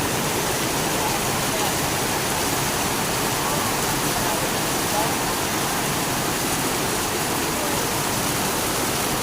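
Floodwater rushing through a full drainage canal: a loud, continuous roar of churning water that stays close and steady throughout, with a voice faintly audible beneath it.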